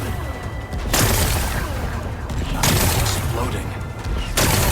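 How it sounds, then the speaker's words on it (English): Rocks are blasted apart in Horizon Forbidden West in three loud, broad explosions roughly a second and a half apart, each a sharp crashing burst trailing into rumbling debris. "Gotta blast away some rocks."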